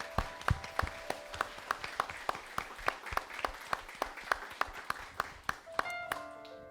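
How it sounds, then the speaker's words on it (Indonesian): A church congregation at a Sunday service claps for the mothers and wives, a moderately distant round of applause with distinct, fairly regular claps, fading toward the end. "kita kasih tepuk tangan buat mereka"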